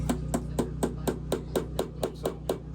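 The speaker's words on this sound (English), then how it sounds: "You're going to hammer it in." A hammer drives a nail into an RV bedroom floor during a remodel, a dozen sharp, evenly spaced strikes ringing out close and loud in a steady rhythm, with no talking.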